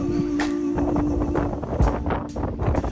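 Strong wind on the Sardinian coast, a steady loud roar and buffeting against the microphone throughout, with occasional gusty bursts and no voices.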